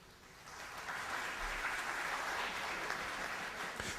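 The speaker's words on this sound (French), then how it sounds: "Vous pouvez déjà vous applaudir." Sustained audience applause fills a French evening Torah lecture hall, a steady dense wash of many clapping hands that swells slightly and holds at moderate loudness, with no voices over it.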